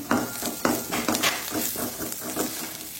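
Chopped garlic and ginger hit a hot pan while cooking Mangalore-style mushroom sukka, giving a steady sizzle broken by rhythmic stirring scrapes against the pan, close and fairly loud.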